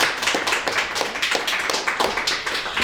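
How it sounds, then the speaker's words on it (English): A small group claps at the close of a talk on family innocence and justice, a steady patter of hands, fairly close and moderately loud, with no voices over it. "Applause."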